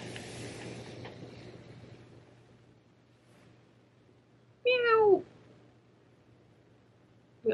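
A single loud, close meow from a cat rises and falls briefly midway through, with quiet room hum and faint rustling before and after.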